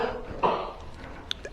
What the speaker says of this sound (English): Well, I got somebody in the background coughing.